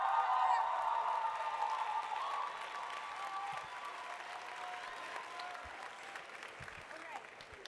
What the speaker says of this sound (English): please stand up because you deserve a round of applause